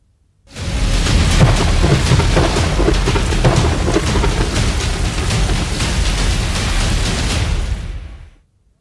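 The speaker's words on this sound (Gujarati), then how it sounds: "શહેરભરમાં ભારે વરસાદ ખાબકી રહ્યો છે" Heavy monsoon rain in Junagadh pours down in a steady, dense roar with rumbling thunder underneath, loud and continuous until it cuts off abruptly.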